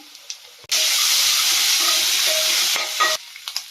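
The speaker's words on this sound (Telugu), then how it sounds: "ఉల్లిగడ్డలు ఫ్రై అయిన తర్వాత కొంచెం అల్లం వేసుకోవాలి" Chopped onions sizzle loudly in a hot pan for Telugu masala mirchi bajji masala, a steady close hiss that starts abruptly and cuts off near the end, with a few stirring clinks.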